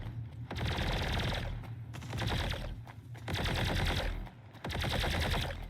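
Turret gunfire in the space game Star Citizen, heard as several rapid bursts of automatic shots in rhythmic groups, loud and close, with brief gaps between volleys.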